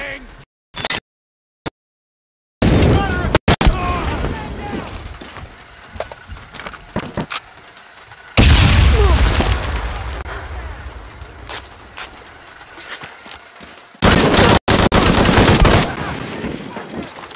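Heavy gunfire in the jungle combat of Shadow of the Tomb Raider, with bursts of automatic weapons and rapid shots that come in loud waves and cut off abruptly, separated by quieter ambient stretches.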